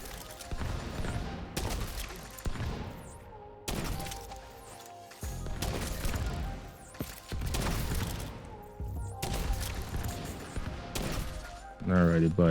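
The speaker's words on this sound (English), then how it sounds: "Start shooting the oxidizers down here." Gunfire from the Division 2 video game, heavy bursts of shooting and impacts in repeated loud stretches separated by short pauses, with a voice speaking over it.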